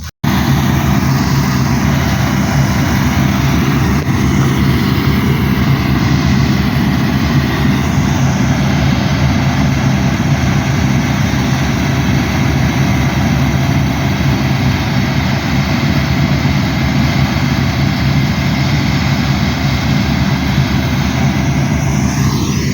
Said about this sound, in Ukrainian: Ось так працює наш комбайн.